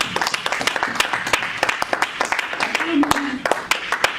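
A church congregation claps together, a close, fairly loud run of quick, irregular hand claps, with a voice rising briefly partway through.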